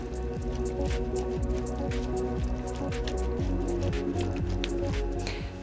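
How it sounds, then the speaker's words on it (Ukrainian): Wet, squishy stirring of thick cooked beans and vegetables with lemon juice, soft squelches and dull clinks repeating in a steady rhythm against a pan, close up. "Перемішуємо."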